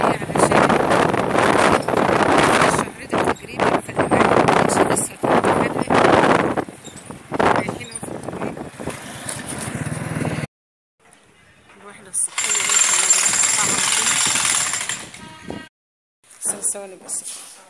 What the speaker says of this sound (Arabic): راح اركب الموتوسيكل اهوت ورا جوزي